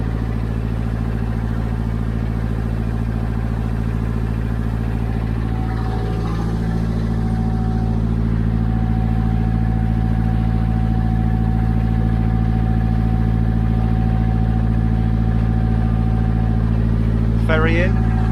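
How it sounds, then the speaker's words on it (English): A ferry arriving near Salcombe in South Devon makes a loud, steady low engine drone that stays constant throughout, with a faint whistle-like tone running through the middle. "Ferry in."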